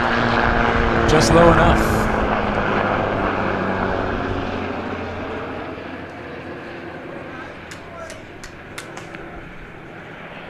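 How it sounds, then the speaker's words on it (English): Low-flying aircraft passing overhead, most likely a helicopter, a steady engine drone that swells in the first two seconds and then fades slowly, with people talking over it throughout. "It's a helicopter."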